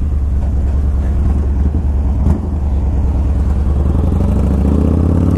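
A Yamaha Raider muscle motorcycle's big engine rumbles loud and close, a deep steady throb with a brief clatter midway and rising revs toward the end, with no talk.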